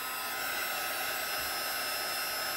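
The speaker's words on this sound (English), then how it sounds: "You want to always make sure your gun is hot before you blow it." Embossing heat gun blowing hot air onto glitter embossing powder, a steady close whirring hiss of fan and airflow held without a break.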